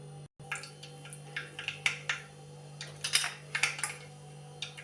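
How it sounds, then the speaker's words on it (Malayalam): Mustard seeds crackle in hot coconut oil in a clay pot on the stove, giving scattered sharp pops and ticks in irregular bursts over a low steady hum. "കടുകിടാം. കടുക് പൊട്ടട്ട്"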